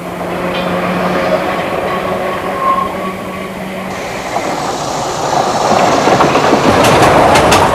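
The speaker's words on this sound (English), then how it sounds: "This electric tram was built for the tourists in September 1893 between Douglas and Ramsey" An electric tram on the Isle of Man rumbles along its rails with a steady low drone and rattling, growing louder and busier toward the end with clattering wheel noise.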